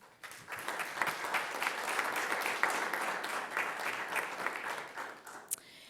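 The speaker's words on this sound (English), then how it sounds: "I think all of those CTE national winners deserve a round of applause" Board members and audience applaud national career and technical education winners at a school district governing board meeting, a steady spread of clapping from many hands lasting several seconds, moderately distant and fairly quiet.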